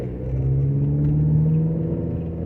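A cheap $50 car running while being driven, its engine a steady, loud, low droning rumble with a faint hum on top, continuous and without speech.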